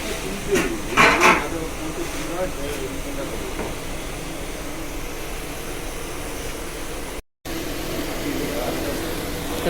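A fan forces air into the fire of a kiln where clay pots are stacked, giving a steady broad roaring hiss close by, with a few brief knocks early on.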